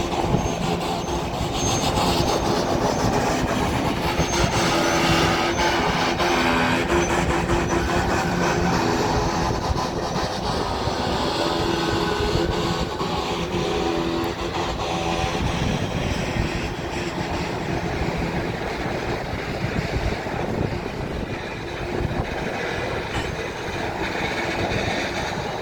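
A CN freight train on the Dundas Subdivision at Milepost 2 rumbles past while slowing down, with a steady loud roar of rolling cars and faint wheel squeal throughout, no voices.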